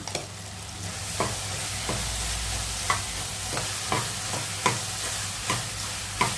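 Ginger garlic paste frying with tomatoes in a pan, a continuous sizzle broken by regular spoon scrapes roughly every second as it is stirred, close and clear, no talking.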